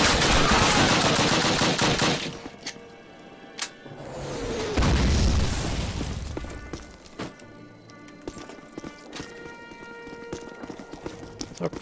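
Gunfire in the original Call of Duty on the Warsaw tank factory level: heavy rattling bursts open the scene, then another dense volley comes, then scattered single sharp shots and clanks under quieter game ambience.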